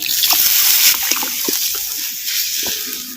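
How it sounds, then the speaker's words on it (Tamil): Half a litre of water poured into ground coconut masala for a village-style black urad dal kuzhambu, a steady close splashing gush with sloshing as it fills, easing off toward the end. "இப்போ அரை லிட்டர் தண்ணி வந்து சேர்த்துக்கிறேன்"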